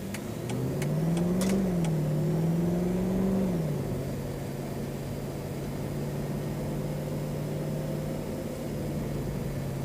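A Mercedes-AMG launches in race start mode on a slippery ice surface, its engine rising loud and steady as it revs, then settling into a sustained drone at close range.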